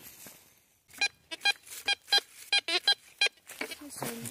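A metal detector sweeping a field right beside a coin gives a run of about ten short, loud, tonal beeps in quick irregular rhythm, followed by scraping and handling noise.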